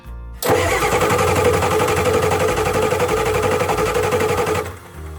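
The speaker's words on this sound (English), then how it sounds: "If you're going to stand in front of your truck and jump the starter" A Ford F350 dually truck's engine cranks on a jumped starter, a loud, close, rapid rhythmic churning that runs for about four seconds and then stops, with no voices.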